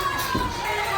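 Wrestling arena crowd cheering after a pinfall, a steady, loud roar of many voices with a brief thud partway through, with no clear talking on top.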